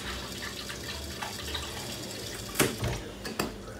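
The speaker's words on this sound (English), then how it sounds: "I'm going to go ahead and put 2 more cups of water in here." Two cups of water poured into a pot of rice, a soft, fairly faint rushing splash with a few sharper clinks and sloshes near the end, no talking.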